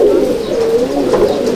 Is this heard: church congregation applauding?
no